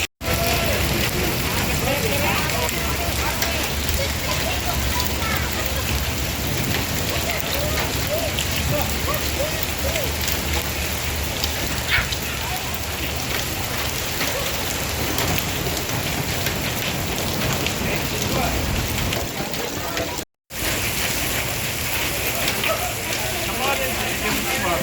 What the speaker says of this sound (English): This is dime-sized hail.